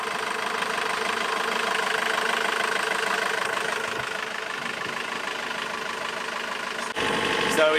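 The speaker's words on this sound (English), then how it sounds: "And it started up, came to life, and then the engine stopped." A sailboat's engine, switched off while becalmed mid-Atlantic, runs as a steady, loud mechanical drone with a knocking rumble, then cuts out abruptly near the end, leaving a brief different noise.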